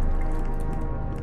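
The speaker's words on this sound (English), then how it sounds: "Take a little shower." Water runs in a shower in the video game HROT, a short, close, splashy patter with faint dripping texture, with no one speaking.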